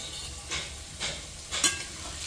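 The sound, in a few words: stirring potatoes frying with turmeric and salt in pan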